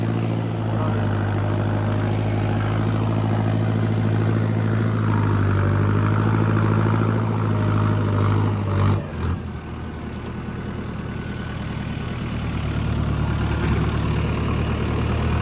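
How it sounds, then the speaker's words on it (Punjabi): A tractor engine drones loud and steady under full load while pulling a plough through soft, wet soil, with a deep continuous rumble and a brief dip in the middle before it settles back to a heavy, even labour. "ਡਟ ਕੇ ਚੱਲਦਾ ਟਰੈਕਟਰ ਵੀ ਪੂਰਾ ਲੋਡ ਲੈ ਕੇ"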